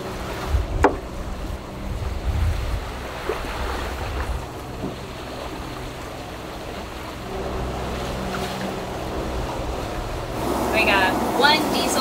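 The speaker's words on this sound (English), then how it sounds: "We got one diesel engine and one electric motor going." A sailboat's diesel engine and electric motor hum steadily beneath water sloshing and wind, with a voice briefly audible near the start and a brighter wash of water toward the end.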